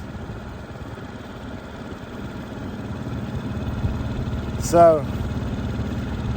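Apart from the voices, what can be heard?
boat motor idling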